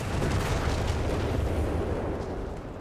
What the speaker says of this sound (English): Khwarzym's men there getting hounded by the artillery